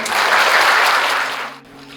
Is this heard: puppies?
no